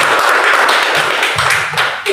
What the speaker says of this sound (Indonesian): Yang mau beri tepuk tangan yuk.